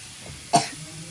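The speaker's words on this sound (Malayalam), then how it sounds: "നമുക്ക് ചുമയൊക്കെ വരും അതിൻ്റെ ഇടയിൽ കൂടെ ഇടിമുളകിൻ്റെ ഒരു കുത്ത്" A single short, sharp cough rises suddenly over quiet kitchen background while cooking jackfruit with pungent crushed chilli.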